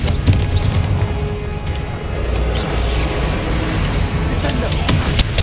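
Blasting-spell explosion from the Hogwarts Legacy video game: a loud, sustained booming rumble with crackling bursts, dense and continuous throughout, layered with game combat effects.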